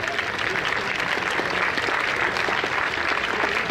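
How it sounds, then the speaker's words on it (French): Sustained, dense applause from an outdoor audience cheering sailors at a traditional sailing boat gathering at Port-Anna, Séné, loud and even throughout with no voices. "vous pouvez les applaudir parce que ce sont des sacrés marins aussi"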